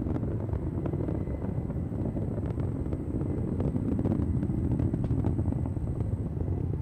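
Vulcan rocket climbing on its BE-4 engines with solid rocket boosters during the CERT-2 launch, a steady, heavy low rumble that roars on without a break.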